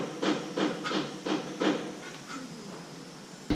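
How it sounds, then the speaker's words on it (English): Repeated hammer blows during boat refit work, five sharp strikes at a steady rhythm followed by lighter, sparser taps, fairly close and clear with no voices. "that's a lot of hammering"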